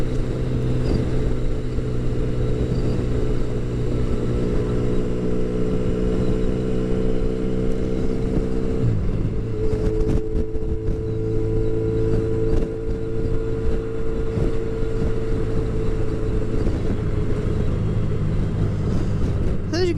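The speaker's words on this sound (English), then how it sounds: "As you can see here, the traffic flow on the 405 comes and goes." Steady freeway traffic on the 405 heard from a moving vehicle, a continuous engine and road drone with wind buffeting the microphone, and a shift in engine pitch partway through as the flow changes speed.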